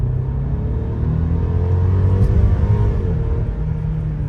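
A 2022 Mercedes GLC 300 in Sport Plus mode accelerates with a loud, deep engine rumble that rises and holds, heard from inside the cabin, with no talking.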